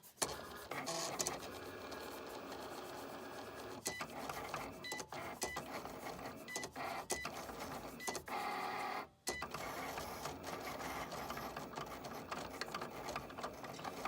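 A Cricut cutting machine runs through a cut, its motor whirring in steady mechanical passes with short pauses and one brief stop near the end, close and fairly quiet.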